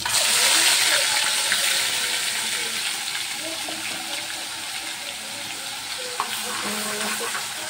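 Ground masala roasts in oil with curry leaves, mustard seeds and cumin in a kadhai, giving a loud, even, hissing sizzle that runs unbroken throughout, close by with a few faint clinks.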